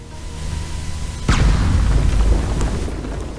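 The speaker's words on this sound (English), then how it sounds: "once you detonate it, it'll blow up" Dynamite detonates in Red Dead Redemption 2: after a quiet moment a sudden heavy boom hits, then a loud rumbling roar that lingers and slowly fades.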